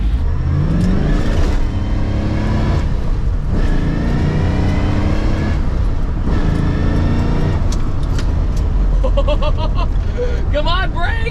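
A 1967 Shelby GT500 barn find with a four-speed manual and carburetors, its engine loud and steady throughout, revving up through gear changes, with voices talking over it.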